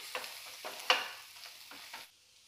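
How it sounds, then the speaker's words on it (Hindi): Fried arbi (taro) pieces being stirred into sizzling spices in a pan, with a few short scraping strokes and a brighter clink near the start, then the sizzle cuts off. "इसे भी अच्छे से इसमें मिक्स कर देंगे"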